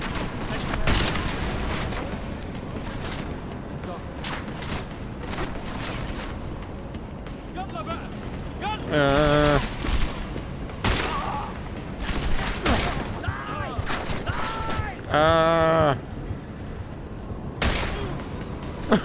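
Revolver shots ring out in Deus Ex: Mankind Divided, a few loud sharp bursts spaced apart amid game noise and chatter.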